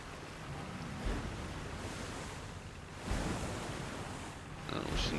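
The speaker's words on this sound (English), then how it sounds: "We seem to get quite a bit of the waves action going here" Ocean waves in the video game Age of Water roll in as a steady, broad surf wash with periodic swells, continuous and moderately loud, with no voices.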